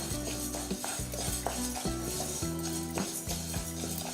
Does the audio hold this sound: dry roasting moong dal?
yes